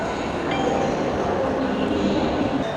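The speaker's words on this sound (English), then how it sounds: "So let's go to take the subway." Inside a subway system in China, a metro train gives a steady loud rumble with faint wheel squeal and tonal whine, continuous and close, with no clear talk.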